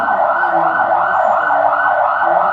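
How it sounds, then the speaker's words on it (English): An ambulance siren passing by on a city street in Lisbon, a loud wailing tone that rises and falls in smooth repeated sweeps, with faint traffic rumble beneath. "Usually ambulances."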